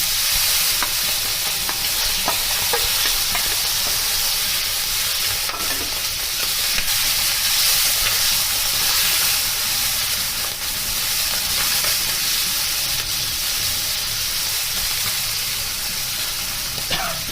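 Tangra fish sizzling and frying in hot oil with turmeric, a steady loud crackle and hiss running continuously with a few stirring clinks, no voices.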